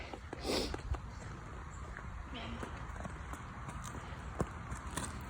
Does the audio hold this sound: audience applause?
no